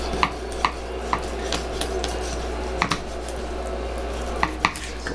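A knife cuts through a brook trout fillet and its rib bones, giving sharp, irregular clicks and pops over a steady low hum.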